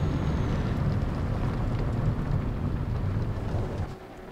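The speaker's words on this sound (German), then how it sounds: "Und es noch regnet." Heavy rain heard while driving roars steadily as a dense, rumbling wash, easing slightly toward the end.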